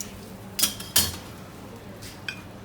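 Lamb being lifted out of a clay pot: two sharp clinks of utensil against the pot close together, then a fainter tap after a quiet pause.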